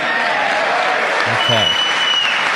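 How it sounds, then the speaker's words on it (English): Applause from the audience during a presidential speech to Congress, a steady wash of clapping heard through a broadcast, with a faint voice murmuring briefly beneath it. "That draws applause again from the Republicans"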